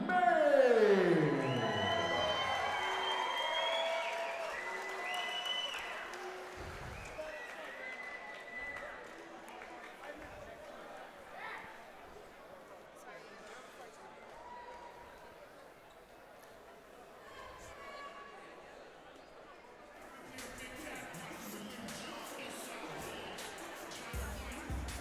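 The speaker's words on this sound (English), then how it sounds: "the crowd settling down a little bit after that fight" Crowd at a live boxing event settling after a hard-fought bout, a broad murmur of chatter and scattered cheers that starts loud and slowly fades to a quieter hum, with voices talking over it.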